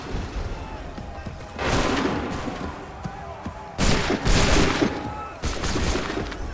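Musket volleys crack out in Assassin's Creed III, revolutionary-war battle: several loud, dense bursts of massed fire roll over a constant din of distant shots and battlefield noise.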